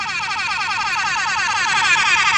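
A loud, continuous wailing air horn sound effect in a video game blares steadily without pause, rising and falling slightly in a rapid pulsing pattern.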